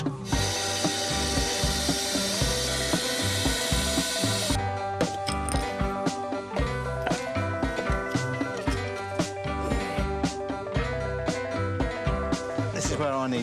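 A power driver sinks screws into timber while building a garden arbour, with several short whirring bursts and wooden knocks that sit close and fairly loud against a busy background.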